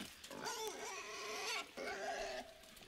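A pig in the video game INSIDE, driven crazy by parasites, gives a few close, loud grunting squeals in quick succession, with a short break in the middle and no talk over it.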